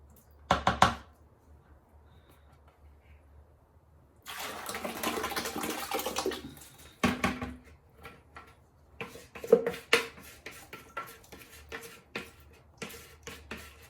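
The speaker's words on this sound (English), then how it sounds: "So after dump it in, I'm stirring a little bit so the water and clay can mix" Trimmed clay scraps tipped into a large bucket of water for recycling, then stirred: a short splash, a longer sloshing pour, then intermittent watery churning and knocks, close and moderately loud with no talk.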